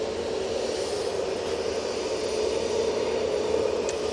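A Jet2 airliner's engines spooling up at Manchester Airport, a steady, fairly loud broadband roar with a whining tone, heard from a distance with no talking.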